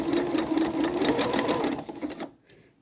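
A sewing machine runs a zigzag stitch along a seam of a drawstring bag, a loud, close, fast rhythmic whirring chatter that stops abruptly near the end.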